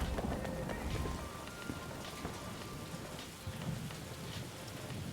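Steady rainstorm in the Battlefield 2042 open beta, a dense hiss of rain on surfaces with a faint low rumble like distant thunder, constant and fairly loud throughout.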